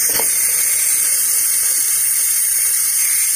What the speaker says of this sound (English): Now do a quick release.